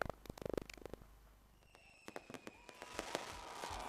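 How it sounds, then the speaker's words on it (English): New Year fireworks over the Federal Capital Territory: rapid clusters of sharp bangs and crackles, then a lull filled with whistling rockets before more scattered pops and a sustained rumble, moderately distant and alone. "Fireworks rent the air in different shapes and forms"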